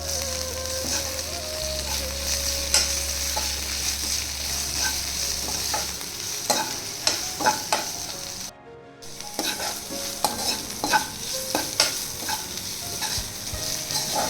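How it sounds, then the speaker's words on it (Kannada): Ginger-garlic paste sizzles and fries in a pan with frequent scraping and stirring clicks of a spoon, close and steady, with no talking. "ಹಸಿ ವಾಸನೆ ಹೋಗೋವರೆಗೂ ಚೆನ್ನಾಗಿ ಫ್ರೈ ಮಾಡಿ"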